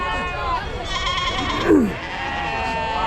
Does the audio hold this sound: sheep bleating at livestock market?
yes